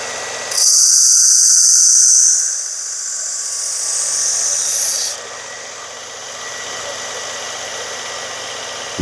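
A Worksharp powered sharpener grinds the edge of a Rosecraft Otter Creek Barlow knife in a loud, high-pitched whine for several seconds, then dropping to a lower steady grind before the motor cuts out, leaving quiet room tone.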